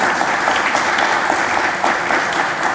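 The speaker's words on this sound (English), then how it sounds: "Let's give them another round of applause." A room of people applauds a breakfast sponsor at a business gathering, loud close clapping that stays steady and dense for a few seconds.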